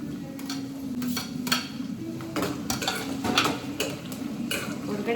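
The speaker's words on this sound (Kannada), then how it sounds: "ನೆಕ್ಸ್ಟು ಟೊಮೆಟೊ ಹಾಕ್ತಾಯಿದ್ದೀನಿ." Tomatoes are tipped into a pan of frying onions and green chillies and stirred, with a steady low sizzle under repeated scraping clicks of a spoon against the pan.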